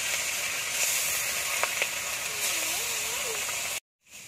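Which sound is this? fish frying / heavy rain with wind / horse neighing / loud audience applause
fish frying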